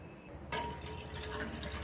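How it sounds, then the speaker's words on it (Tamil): Water being poured into a saucepan of milk while making sago payasam, starting as a sudden close splashing pour that settles into a steady trickle. "கூட ஒரு 1/2 கப்பு தண்ணி ஆட் பண்ணிக்கலாம்."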